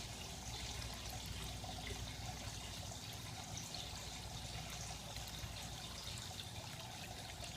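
Water trickling and gurgling through an aquaponics bell siphon as a grow bed fills and drains, a steady faint splashing flow throughout with no talking.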